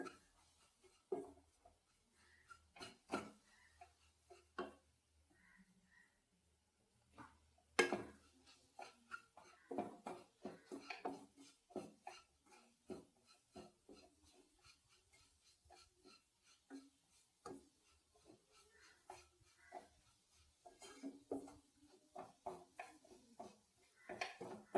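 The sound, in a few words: stirring Amrutham powder laddu mixture in a pan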